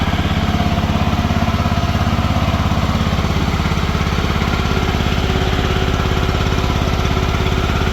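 An Ingersoll 3014 tractor engine runs steadily at close range with a constant low chugging throb and no change in pace throughout.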